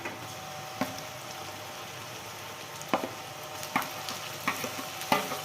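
Onion and masala frying in a pan for a simple puri bhaji, with a soft steady sizzle and repeated sharp scraping stirs spaced a second or so apart.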